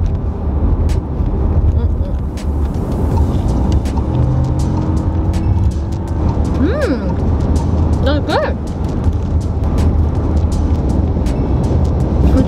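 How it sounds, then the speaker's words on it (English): Steady low rumble of a car driving over a bumpy road, heard from inside the cabin, continuous throughout with brief talk on top. "the car is so bumpy, it's just going everywhere"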